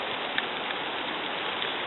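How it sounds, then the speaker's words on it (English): Steady rain falls outdoors in about 40-degree weather, a dense, even hiss of drops with no pauses and no voices. "It's raining."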